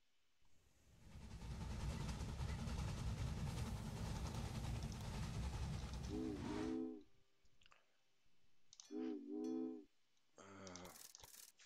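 Train sounds in the railroad strategy game Railway Empire: a loud, long rumbling roll for several seconds, followed by a few short whistle-like toots and clicks.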